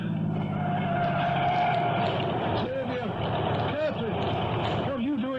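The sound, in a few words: car approaching on road, radio drama sound effect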